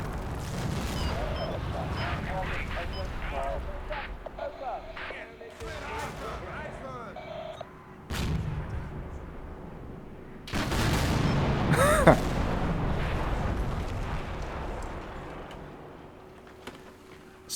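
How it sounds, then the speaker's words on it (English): Tank cannons firing in a tank-on-tank engagement in the Cold War wargame Combat Mission: BAOR '79, heard as several heavy booms and blasts amid battle ambience, the loudest burst coming late in the sequence. "that was a clear tank-on-tank engagement. They both fired into this."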